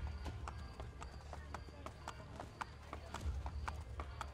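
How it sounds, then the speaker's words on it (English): Steady rhythmic clip-clop of horse hooves trotting nearby in the video game Assassin's Creed Brotherhood, with a voice talking over it throughout. "Don't get run over by the horse!"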